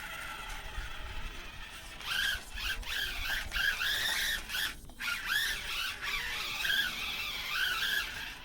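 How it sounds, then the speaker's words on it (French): A 1/24 scale RC rally car with rubber tyres drifts across a tiled floor, its small electric motor whining in rising and falling pitch with light tyre scrubbing, close and steady for several seconds with no talk. "sur le carrelage, avec les pneus en caoutchouc, ça drift un peu, mais il faut mettre la puissance"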